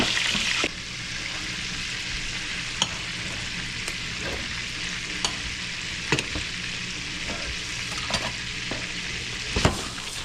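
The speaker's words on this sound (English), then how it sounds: "now I'm gonna add some more butter" Unsalted butter sizzles in a frying pan with chicken Francaise and lemon, a loud, even hiss throughout with occasional clicks of a utensil close by, no voices.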